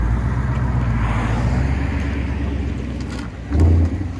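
A 2018 Ford Mustang GT with the 5.0 Coyote V8, dual exhaust, MBRP cat-back system and a 6-speed gearbox rumbles loudly and steadily up close, then gives a short, stronger rev near the end, with no talk.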